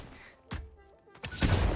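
Explosives detonating in the video game Satisfactory, two sharp blasts followed by a louder rumbling explosion, close and punchy.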